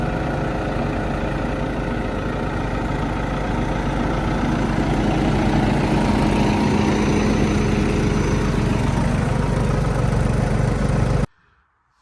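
A New Holland tractor engine drones steadily and loudly throughout while spraying a field, a constant low rumble that cuts off abruptly near the end.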